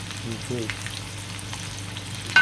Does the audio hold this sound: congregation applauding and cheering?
no